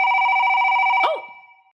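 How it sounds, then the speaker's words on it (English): An old-style telephone bell rings in a rapid, buzzing trill for about a second, then cuts off and fades to silence before a brief click. "The phone is ringing again."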